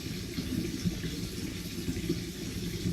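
Water running into a bathtub, a steady, moderately close gushing and churning flow that holds even throughout, with no voices.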